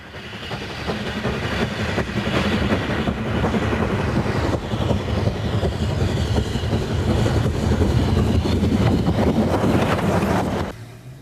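Steam locomotive 80135 working hard uphill near the summit of the North Yorkshire Moors Railway, a steady, loud, continuous rumble of engine and rolling stock with some wind noise, sustained throughout before cutting off at the end.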